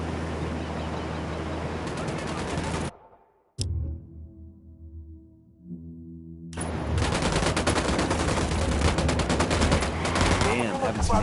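Bursts of gunfire in the video game Ghost Recon Wildlands, with dense loud rapid shots that drop out briefly to a quiet gap, then resume in a sustained heavy barrage.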